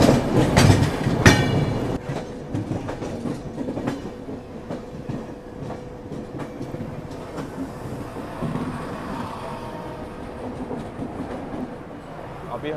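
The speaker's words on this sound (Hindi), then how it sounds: "अभी हमारी ट्रेन जो है भोपाल जंक्शन रेलवे स्टेशन से निकल तो रही है" Duronto Express passenger train pulling out of Bhopal Junction railway station at night, with a continuous rumble and rhythmic clickety-clack of wheels over the rails, heard from on board, loud and steady throughout.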